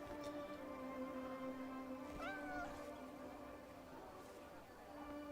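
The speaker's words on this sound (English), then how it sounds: "look at this cat" A large cat in a video game meows once at mid-clip, a short rising call heard over steady humming game music and background noise.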